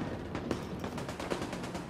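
Shotgun fire in The Division 2, a quick run of muffled blasts and gunfire in a busy game mix, fairly quiet, with no speech.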